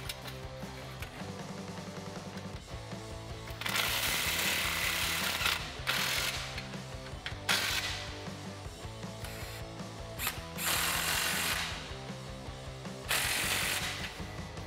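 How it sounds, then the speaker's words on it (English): Pneumatic impact gun with a 15mm socket snugging exhaust clamps on a 2011-2014 Ford F150 3.5L EcoBoost with a Roush exhaust system. Several loud, bursty ratcheting rattles start and stop against a steady mechanical hum. "Now I'm just going to take a 15mm socket on my impact gun, and I'm going to loosely tighten up the clamps enough so that I can make adjustments as needed"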